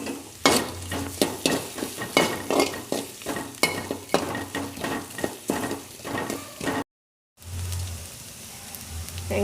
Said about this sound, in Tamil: வெங்காயம் நல்லா வதங்கிட்டு